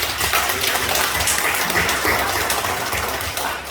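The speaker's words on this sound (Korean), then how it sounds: "박수 드리겠습니다." A church congregation at a Sunday morning service applauds steadily, a dense, even patter of clapping filling the room for a few seconds.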